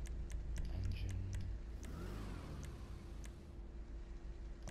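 Engine of a Weaponized Tampa muscle car in GTA 5 revs and hums close by, a throaty low drone with a mid-clip surge and scattered clicks on top.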